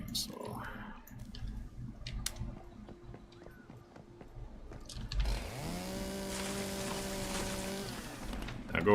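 A chainsaw in a video game revs up partway through and then runs steadily at a loud, droning pitch, preceded by scattered game clicks and effects.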